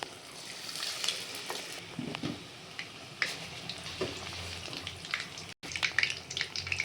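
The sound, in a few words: garelu (lentil fritters) deep frying in oil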